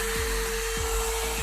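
A one-step hair dryer and styler blows continuously, a loud, steady airy rush with a constant motor whine and a faint low rhythmic pulse throughout.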